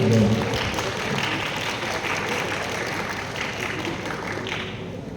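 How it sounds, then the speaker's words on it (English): Audience applause at a summit at XLRI Jamshedpur welcoming a guest speaker, broad sustained clapping from a sizable crowd filling the whole stretch, with a brief low voice at the very start. "Let's have a huge round of applause for him."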